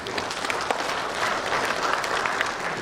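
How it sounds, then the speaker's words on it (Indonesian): Sustained applause from an audience at a launch event, steady clapping filling the space at fairly close range with no voices standing out. "Tepuk tangan dulu untuk NTT."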